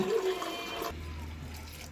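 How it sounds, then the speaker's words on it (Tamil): Water pours steadily into a vessel for boiling avaram (tanner's cassia) flowers, shifting midway to a lower, fuller gurgle as it fills; close and moderately loud, no talking. "தேவையான அளவு தண்ணி சேர்த்து போங்க"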